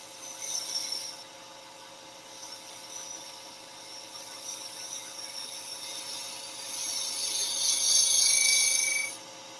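A woodturning tool cutting shavings from a spinning workpiece on a lathe, producing a steady hissing scrape over the motor's even hum, with a louder cut near the end.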